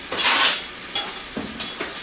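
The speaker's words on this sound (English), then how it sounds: "now we're just going to put the chicken in the pan. Pan is nice and hot." Chicken pieces hit a hot pan with bursts of hissing sizzle, followed by several short scrapes and stirs of a utensil against the pan, close and fairly loud, no voices.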